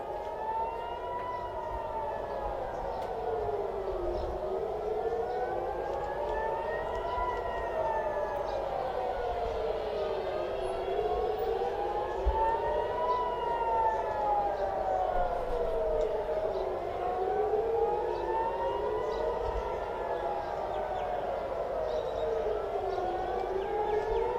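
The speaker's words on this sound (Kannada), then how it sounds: "ಉತ್ತರ ಇಸ್ರೇಲ್ನಾದ್ಯಂತ ಸೈರನ್ ಮೊಳಗ್ತಾ ಇದೆ" An air raid siren in northern Israel, sounding during an Iranian missile attack, wails continuously, its pitch rising and falling in slow, repeated cycles, loud and steady throughout.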